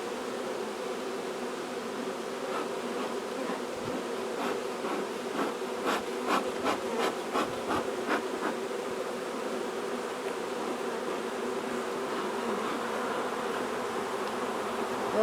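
Honeybees from a nuc hive with an Alberta-bred queen buzz softly and steadily, a close, dense hum with a brief rise in activity midway, alone without talk.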